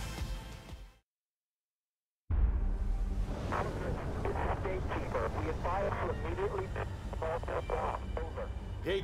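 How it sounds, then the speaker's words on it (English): Garbled military radio transmission in the Battlefield 4 video game cuts out to silence and then returns as harsh, crackling, distorted voice chatter breaking up under static. "Say again, you're breaking up."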